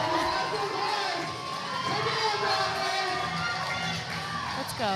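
Crowd at a powerlifting meet, the 2025 USA Powerlifting Titan Barbell Open, cheering and shouting loudly and continuously for a 145 kilo lift, with voices whooping throughout.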